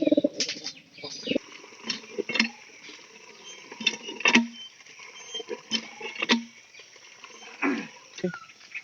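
A pigeon coos in soft repeated bursts, with a few sharp wing flaps and scuffles close by, over a quiet background.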